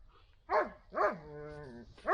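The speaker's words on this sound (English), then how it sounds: "Oh, puppy, quiet." A puppy gives two short, close yapping barks with a brief whining tone between them, fairly faint in a quiet room.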